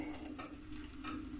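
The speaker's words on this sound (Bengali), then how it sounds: "এবার একটা পেঁয়াজকে আমি ভাজছি।" Chopped onion fries in a pan for tadka, a soft continuous sizzle with faint metallic clinks and scrapes from stirring, quiet and steady with no voices.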